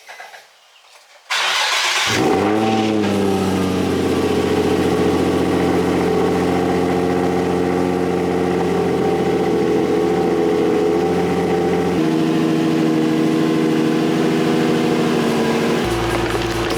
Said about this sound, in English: Let me go ahead and start this car up and get it outside